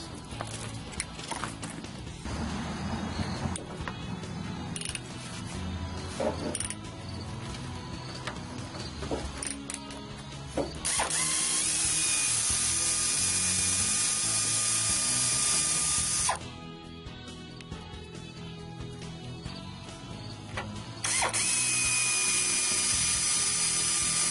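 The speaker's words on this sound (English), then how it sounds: "I think we're ready to remove the caliper bolts." A ratchet clicks close by while undoing the brake caliper bolts during a front disc brake job, with runs of fast pawl ticks that alternate with long, louder stretches of mechanical turning.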